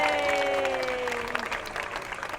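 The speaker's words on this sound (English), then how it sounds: "Let's give our seals another big round of applause." A crowd at a zoo seal show in Sydney applauds the seals, giving steady dense clapping throughout. A voice speaks briefly over it at the start.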